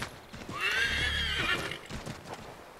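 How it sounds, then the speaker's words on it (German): A horse whinnies loudly in the snowy setting of the Assassin's Creed III video game, one long neigh near the middle with soft hoof clops around it, fairly close and clear. "Was schnelleres Galoppieren kostet das Pferd viel Ausdauer"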